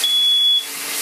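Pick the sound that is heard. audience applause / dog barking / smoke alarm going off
smoke alarm going off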